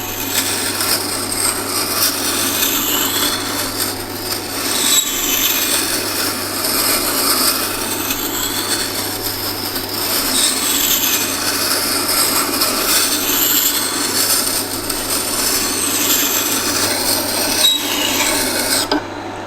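A gouge chisel being ground to raise a burr ahead of honing gives a steady, continuous rasping scrape that carries on for the whole stretch, close and fairly loud, with no talking.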